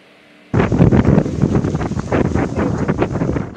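Strong typhoon wind and rain lash Isabela where the storm made landfall: after a brief quiet start, loud gusty buffeting roars against the microphone without letting up.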